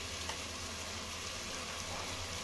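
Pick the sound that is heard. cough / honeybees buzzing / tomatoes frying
tomatoes frying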